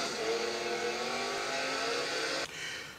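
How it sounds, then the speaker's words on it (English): Car engine revving hard during a wheelie stunt in a Fast and Furious film scene, a loud sustained roar with rising pitch that cuts off abruptly near the end. "in this scene, you're going to have Vin Diesel pop a wheelie"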